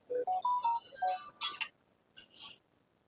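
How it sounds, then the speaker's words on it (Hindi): A mobile phone rings with an incoming call, playing a bright melodic ringtone of rising tones followed by a few fainter chimes, close and clear with no talking. "हमारे मोबाइल पर जिससे हम नेट चला रहे हैं उस पर फोन आ गया"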